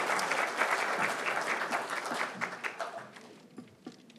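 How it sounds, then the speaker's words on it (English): Audience applause closing a panel session at a corporate showcase event, steady dense clapping for about three seconds that thins out into scattered claps at the end. "If we could end this panel maybe with a round of applause, I'd appreciate it very much."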